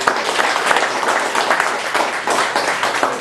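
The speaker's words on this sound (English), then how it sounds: "let's give him a round of applause" An audience gives a round of applause for a speaker, a loud, close, continuous wash of many hands clapping with a few swelling peaks throughout.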